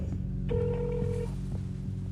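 A steady ringback tone from an outgoing phone call sounds once for under a second over a low, constant background hum, then the line goes quiet.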